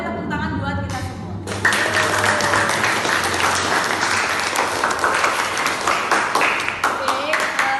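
A chemistry class breaks into applause after a brief moment of a teacher's voice, then dense, lively clapping from many students carries on steadily, with chatter and voices mixed in.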